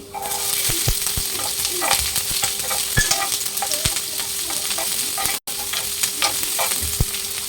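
Chopped onion fries with ginger and garlic in a pan: a steady, close sizzle broken by sharp clicks and scrapes of stirring.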